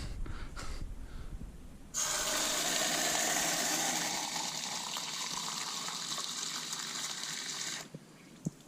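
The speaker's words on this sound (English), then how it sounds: "there's the potable hose water" Potable garden hose water pours into a cup, a sudden loud gushing rush that starts after a quiet moment, runs steady for several seconds up close, then cuts off.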